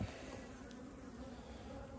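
Honey bees hum in a steady, continuous buzz around a summer beehive, moderately close, with no voices.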